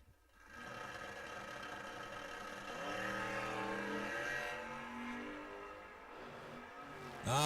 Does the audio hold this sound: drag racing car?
yes